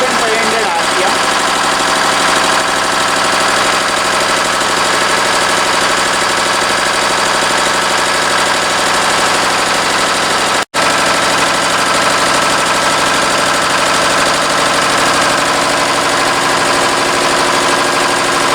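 A 4-stroke single-cylinder diesel engine runs steadily at about 1500 RPM on a test bench under load, a loud continuous mechanical drone with a brief dropout partway through.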